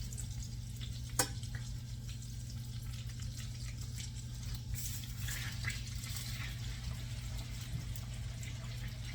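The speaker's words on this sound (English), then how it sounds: "I'm actually cooking some of the oil out of the rosemary" Rosemary sizzling in melted butter in a pan, a steady close frying hiss with faint crackles running the whole time, no talking.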